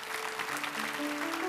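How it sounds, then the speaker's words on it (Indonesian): Church congregation applauds during a sermon, a brief continuous patter of many hands with faint tonal sounds underneath. "Kasih tepuk tangan tuh Tuhan."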